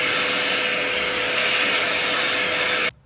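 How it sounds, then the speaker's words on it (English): Vacuum cleaner sucking up debris from a car's engine bay near the airbox of a former undercover police car, a steady loud whine that cuts off abruptly at the end. "There's some of the same stuff that we found inside the airbox here, so I'm going to just vacuum this up"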